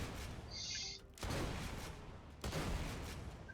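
A Torgue shotgun firing rockets in Borderlands 2, two loud booming blasts with a short whistle before the first and a rumbling tail after each.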